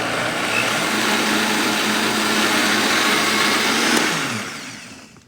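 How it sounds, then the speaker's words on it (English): A blender whirs steadily as it purees tomato sauce, a loud, continuous motor drone for about four seconds that then winds down and fades. "as we blend this, it's all going to compress and you'll find a smooth, beautiful tomato sauce puree"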